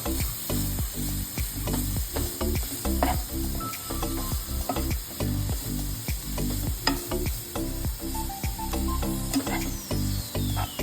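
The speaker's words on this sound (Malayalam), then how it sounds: "സ്പിനാച്ച് ഒന്ന് നന്നായി ഇളക്കിയിട്ടിട്ട്" Spinach is stirred in a hot pan for spinach corn rice, with a continuous sizzle, rhythmic scraping strokes of the utensil and occasional clinks against the pan, close and fairly loud.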